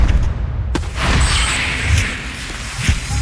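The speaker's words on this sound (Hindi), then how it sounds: "ये लक्ष्मी बॉम्ब है। इसे इस तरह नहीं जलाते, इस तरह जलाते हैं।" A Lakshmi bomb firecracker goes off with a loud, close boom that fades into a hissing, crackling tail, and a second fainter thump follows near the end.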